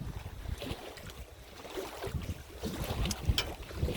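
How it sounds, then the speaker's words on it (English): Gusty wind buffets the microphone on a houseboat in Temagami, in uneven, rumbling surges, rising and falling with no voices present. "Wind is dropping a little bit, but it's still been blowing pretty good."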